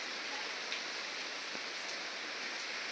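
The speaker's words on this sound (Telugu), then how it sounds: "వర్షం పడుతుంది" Steady rain falls outside a homestay in Coorg, a soft even hiss with faint scattered drops, distant and fairly quiet, with no voices over it.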